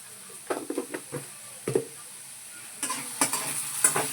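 Sabudana khichdi is stirred in a frying pan, with a soft steady sizzle and a series of spoon scrapes and clinks in short irregular bursts.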